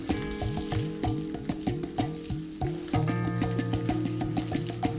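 Curry leaves and sliced shallots fry in hot oil for a tempering, a steady close sizzle with crackling bursts and some stirring, with no one talking.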